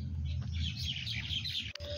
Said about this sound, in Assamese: চাৰিওফালে চৰাই চিৰিকটিৰ মাত